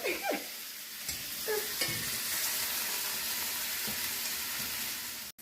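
Big cubes of grass-fed sirloin steak sear in a hot pan, producing a loud, continuous sizzle with a few clacks of a utensil moving the meat. It cuts off abruptly at the end.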